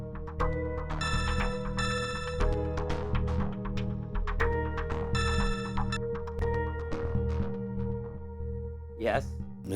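A phone rings with a repeating electronic melody, bursts of tones recurring over several seconds while background music and voices continue around it.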